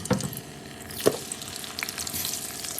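Potatoes with turmeric, ginger, garlic, cumin, coriander and dry chilli frying in a pan: a steady, soft sizzle with a few stirring scrapes and clinks, and no talk.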